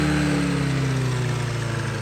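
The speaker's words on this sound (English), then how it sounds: "So if you hear how it's revving up, I'm not hitting the throttle at all." A Honda Metropolitan scooter that had trouble starting after sitting idles on its own with a steady, close, buzzing engine note that drifts slightly in pitch, no throttle applied.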